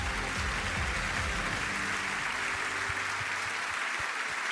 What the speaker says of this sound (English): A huge round of applause, of course, for the Sky Bet Championship Team of the Season